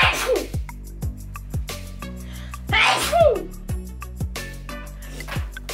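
A single loud sneeze bursts out midway through a stretch of household shopping-haul chatter, with talking and background voices continuing before and after.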